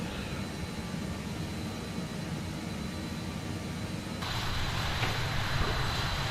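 A small jet flown in Microsoft Flight Simulator 2020 gives a steady broadband engine roar that swells louder and brighter partway through, continuous with no talk.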